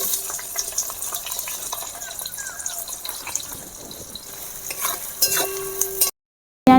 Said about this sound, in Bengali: পেঁয়াজ ভাজা হয়ে গিয়েছে